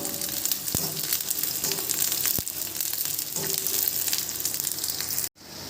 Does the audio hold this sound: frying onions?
yes